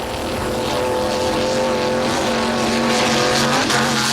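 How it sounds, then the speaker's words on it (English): Offshore powerboat engines roar loudly and continuously at racing speed during a Super Boat Grand Prix off Deerfield Beach, Florida, with a rough, sputtering edge as the motors hit their rev limiters. "You hear that popping sound? That's the motors hitting their rev limiters."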